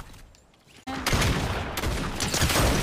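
Video game gunfire in a Prop Hunt match, a quiet lull breaking into a loud, sustained volley of rapid overlapping shots that continues to the end.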